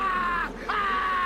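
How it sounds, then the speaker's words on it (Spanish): Nicolas Cage screaming in a horror film remake: a loud, sustained high wail that breaks off briefly and then resumes, strained and wavering, with no other voices. "siempre es un placer ver cómo grita Nicolas Cage"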